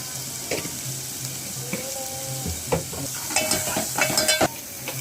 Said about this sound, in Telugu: అలానే మసాలా వేగుతూ ఉన్నాయి